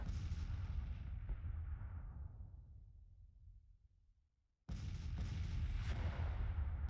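A Grand Tactician battle with artillery fire, where a booming roar decays slowly into near silence. Then a second blast cuts in abruptly and stays loud to the end, and no voices are heard.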